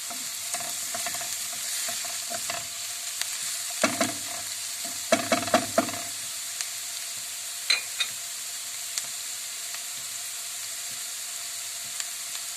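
Peppers sizzle and crackle in a hot pan with garlic as a utensil stirs and scrapes in short bursts, then the frying settles to a quieter hiss.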